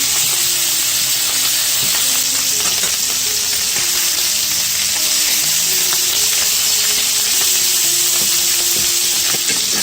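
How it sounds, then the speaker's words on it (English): Dutch Rookworst sausages sautéing and browning in a pan give a loud, continuous frying hiss and sizzle, close and steady, with faint clinks underneath and no talking. "you're looking to just lightly saute and brown them on all sides"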